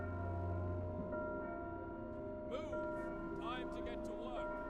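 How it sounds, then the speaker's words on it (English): Church bells ring in the Frostpunk survival city-builder, sustained bell tones holding steady beneath a low hum and game music, with a few brief chime-like swells partway through. "I love that they put in the church bells now instead because we went that way."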